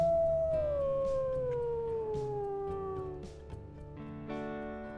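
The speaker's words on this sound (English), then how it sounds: "She's howling back at us." A wolf howls in a wolf-life video game, one long clear howl gliding slowly downward, with further faint howls and soft tonal game ambience continuing underneath, no talk.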